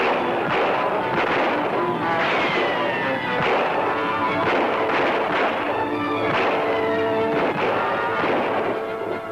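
Gunfire rings out in a 1941 Buck Jones western film serial, a dense run of loud cracks and booming reports that echo over an old noisy soundtrack without a break.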